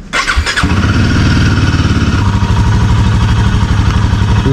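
Royal Enfield Himalayan 450 motorcycle cold-starting: a short starter whirr catches into a loud, steady single-cylinder idle with an even low thump, close up and with no voices.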